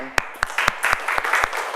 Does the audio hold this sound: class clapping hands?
yes